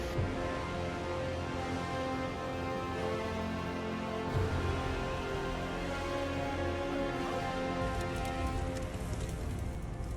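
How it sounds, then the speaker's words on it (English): A heavy downpour in Arizona during a flood pours steadily for about ten seconds as a dense, even hiss of rain. "A heavy downpour mixed with melting snow triggered a powerful flood in Arizona"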